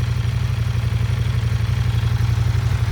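A CF Moto 800NK motorcycle with a two-cylinder engine idles close by, giving a steady, loud, low throbbing rumble with a fast even pulse and no speech.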